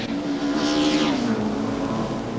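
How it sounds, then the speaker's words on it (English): Ford Mondeo and BMW touring cars racing at the 1995 Indycarnival Super Touring Cup, a loud sustained engine drone with a steady high pitch as the cars pass close by, under no talk. "The Ford Mondeo in pursuit of the BMW of Charlie O'Brien"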